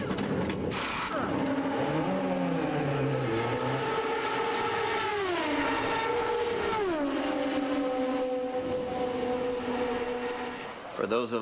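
IndyCar race cars at Indianapolis during the 2008 Bump Day time trials scream past with loud, high-revving engines, pitch sweeping and dropping as they pass, a continuous roar under a commentator's voice.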